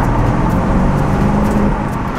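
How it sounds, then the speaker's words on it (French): A low, steady V8 engine rumble with a throaty burble from the rear of a 2021 Alpina B5 Touring, muffled as if heard from inside the quiet car, continuous throughout. "on entend le V8 qui glougloute à l'arrière"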